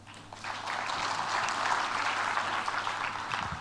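Audience applause at an international research forum, a soft wash of many hands clapping that swells after a quiet start and holds steadily, heard from a distance.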